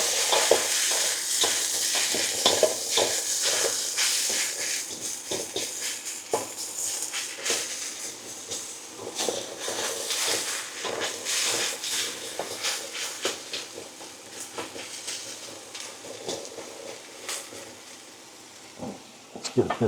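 Pork stir-frying in a hot pan with hoisin sauce, a steady sizzle broken by frequent scraping and tossing clatters from stirring, close up and continuous.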